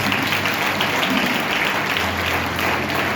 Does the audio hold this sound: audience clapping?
yes